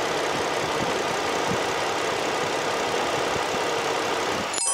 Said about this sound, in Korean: 엔진룸 개방했고요. 엔진 소리 들어보도록 하겠습니다.